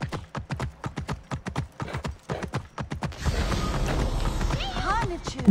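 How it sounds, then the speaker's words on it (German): Hooves clip-clop in a quick, even rhythm for a few seconds, then a louder rushing rumble takes over with a horse whinnying, in the video game Assassin's Creed Origins. "Es ist ein richtig cooles Pferd."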